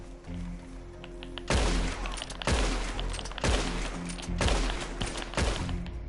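Gunfire in an online capture-the-flag match of Red Dead Redemption 2, with five loud, evenly spaced shots about a second apart over a steady low game hum.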